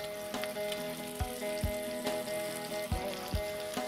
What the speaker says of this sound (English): Once the oil heats up, we need to start frying these.